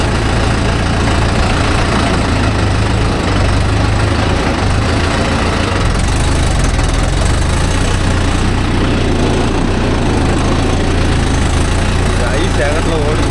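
Engine of a Mahindra Yuvo Tech Plus 585 DI 4WD tractor running steadily, a loud close diesel rumble with a rough knocking texture under continuous talk.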